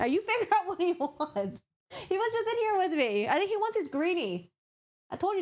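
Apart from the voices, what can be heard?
None of the usual background noises is heard.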